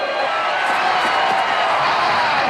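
Dense, steady crowd roar from an arena audience cheering at a wrestling match between Rocky and Thunder Lips, continuous throughout with scattered whoops, no clear individual voices.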